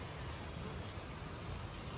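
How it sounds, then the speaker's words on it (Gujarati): Heavy monsoon rain pours steadily in Surat, Gujarat, a dense, even hiss of drops on surfaces with no pauses, close and fairly loud. "તમે જોઈ શકો કે વરસાદ અહીં કેવો છે એમ."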